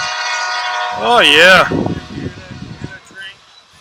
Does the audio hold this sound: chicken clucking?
no